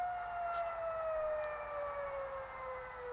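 A submarine's engine races as if spinning freely, producing a steady, siren-like whine that glides slowly downward in pitch, heard alone and fairly faint.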